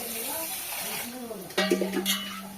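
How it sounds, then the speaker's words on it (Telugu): Onions frying in a pan: a soft sizzle under a person talking, then a louder burst of stirring and sizzling partway through. "ఆలోపు బాగుండే ఆనియన్స్ అయితే ఫ్రై అవుతుంది"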